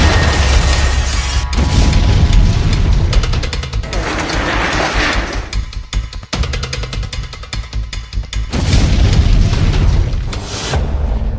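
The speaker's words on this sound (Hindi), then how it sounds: "लोत्स्क और द्निप्रो में धमाकों की आवाजें।" Explosions from Russian attacks in the Ukrainian cities of Lutsk and Dnipro, heard as a sustained heavy rumble with deep booms and bursts throughout, loud and continuous with no speech.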